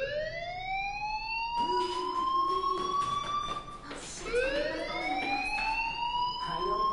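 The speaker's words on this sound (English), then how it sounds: "Hey, do you hear that fire alarm?" A fire alarm wails in the video game Life is Strange, its loud tone sweeping up and down in repeated rising cycles with bright harmonics, sounding continuously across the whole stretch under a faint background murmur.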